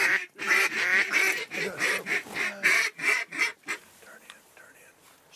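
Ducks and geese in a field during a waterfowl hunt, honking and quacking in a dense overlapping chorus that fills the first few seconds, then thins to scattered distant calls.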